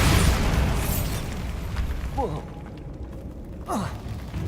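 Bombarda spell blasts in Hogwarts Legacy, a heavy explosive burst at the start that rumbles and fades, followed by whooshing magical sweeps and a second rising swish near the end.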